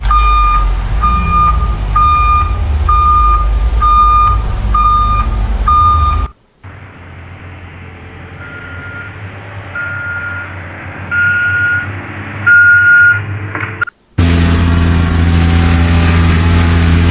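An AI-generated truck sound effect from ElevenLabs: loud, steady reversing beeps over a deep diesel engine drone, then a quieter truck engine hum with faint beeps, ending with a heavy low engine rumble.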